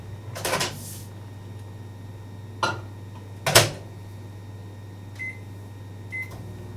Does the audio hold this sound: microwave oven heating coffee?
yes